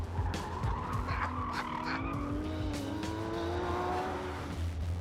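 A rear-engined car with four-wheel steering corners hard with electronic aids switched off, tires squealing in long rising and falling wails over a steady engine drone, close and continuous with no talk.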